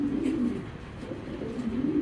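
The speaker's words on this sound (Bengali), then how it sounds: "এগুলো একই খামারের কবুতর।" Soft, low cooing from an imported foreign racing pigeon, a 2021-tagged male kept on a pigeon farm, repeating in gentle throaty pulses close by with steady background hum and no talking.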